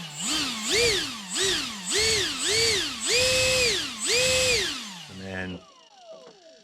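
An electric ducted fan mounted on a WPL C14 RC truck, held on the brake, spools up and down about six times in a rhythmic series of loud, close, rising and falling jet whines, ending with a brief rattling clatter.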